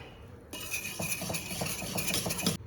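A whisk beats chopped mango with sugar in a bowl for homemade mango jam, giving a rapid, close, continuous clinking and scraping that runs for about two seconds with no voices.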